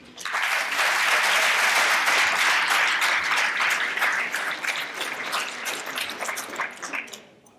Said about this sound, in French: je vais vous demander d'applaudir Morembo